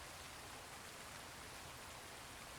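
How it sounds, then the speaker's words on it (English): Rain falling steadily on rooftops and windows at night, a soft, even hiss of drops with no breaks, faint and continuous, no voices. "The rain has been falling all day, sometimes heavy, sometimes light, but always there, a constant presence, a soft drumming on rooftops and windows."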